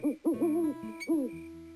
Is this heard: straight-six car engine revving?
no